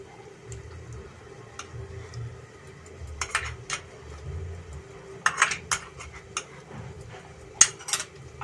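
Chicken being mixed with whisked sour yogurt in a pan for doi kasuri chicken, heard as faint, sparse clinks and scrapes of a utensil against the pan, with a few sharper taps near the end over a quiet background.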